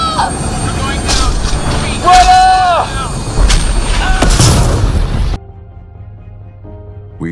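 A shuttle crash after a lightning strike, staged as an audio drama effect: loud cracks and booming impacts with swooping alarm tones run under urgent shouted voices, then cut abruptly to a quiet, humming background.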